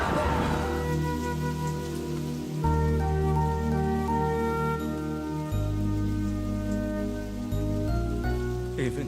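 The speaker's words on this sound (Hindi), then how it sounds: "क्या बेवक्त बारिश आ गई। अचानक से बारिश तो बढ़ती जा रही है।" Heavy rain pours down during a sudden storm in a scene from a Telugu action film, with people hurrying a boat to shore. It is a steady, dense downpour that continues throughout under a loud orchestral music score.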